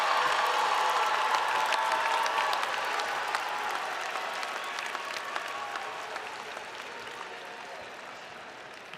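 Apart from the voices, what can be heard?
audience applauding graduates at commencement ceremony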